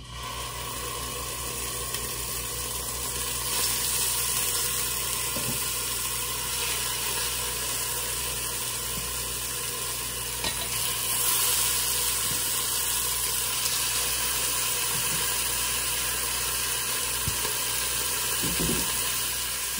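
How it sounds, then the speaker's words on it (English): A steady, dense sizzle of meat searing in a hot oiled pan for birria tacos continues throughout, close and even, with occasional faint clicks. "when it's good and hot, you can begin searing your meat."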